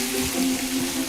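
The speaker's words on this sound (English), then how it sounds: "I'm going to skin a couple of tomatoes, mate. OK, mate. Plunge into boiling water." Tomatoes being plunged into a pot of boiling water to loosen their skins: a brief, steady bubbling hiss of water, with no talk.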